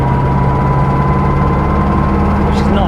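A Porsche 912 engine runs a little spluttery while driving, a steady low rumble and hum throughout, heard from inside the car with a faint higher whine near the end.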